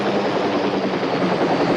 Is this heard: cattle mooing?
no